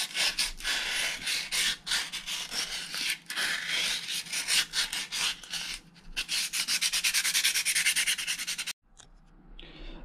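A stone pipe with a moulded cap is sanded by hand in quick back-and-forth strokes, a close, gritty rubbing rhythm that speeds into rapid even strokes before stopping abruptly.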